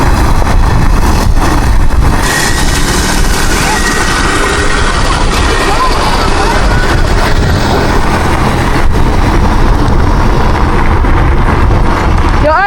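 A go-kart engine running close by during a mini rideout, a loud steady rumbling drone that holds throughout with little change, with faint voices underneath.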